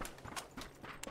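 Footsteps sound in a third-person shooter game: a quick run of faint, rhythmic padded steps with no talk over them.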